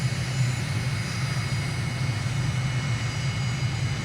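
Airliner engines in Microsoft Flight Simulator on approach to Coco Cay in the Bahamas: a steady, loud droning hum with a low rumble, constant throughout, with no distinct gear clunk audible.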